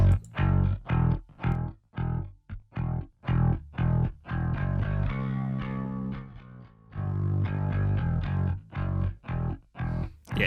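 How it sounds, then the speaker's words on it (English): Distorted, saturated music loop processed through the Analog Obsession FETISH, a free 1176-style FET compressor plugin, with punchy rhythmic hits and a sustained distorted midsection, loud and upfront with no talking. "so you can really hear that distortion."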